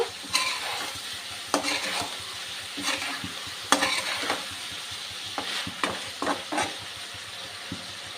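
Cumin seeds sizzle in a pan while a spoonful of paste is stirred in and worked through. Repeated sharp scrapes and knocks of a utensil against the pan sit over the steady frying.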